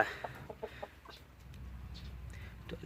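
A few short gamecock chicken clucks early on, fairly close, then a low steady rumble with scattered faint clucking.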